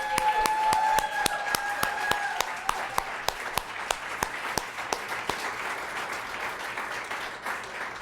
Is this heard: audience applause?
yes